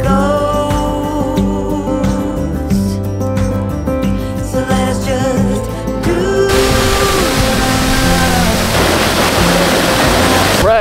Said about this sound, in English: The waterfall-ish thing.